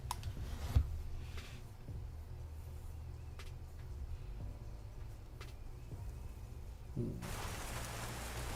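Rain in an island adventure video game falls as a soft, steady patter with faint ticks and clicks, quiet and continuous, swelling into a brighter, hissier wash near the end.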